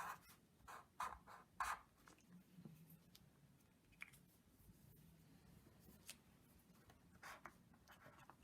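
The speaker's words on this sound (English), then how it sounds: "So I'm just going to write now." A pen scratches across paper in quiet, intermittent strokes, with short bursts of scribbling separated by pauses in an otherwise hushed room.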